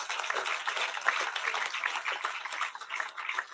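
Residents of the Goed Fortuin Housing Scheme in Guyana applaud at an outdoor community meeting, a steady, moderately loud patter of many hands clapping together for several seconds with no voices over it.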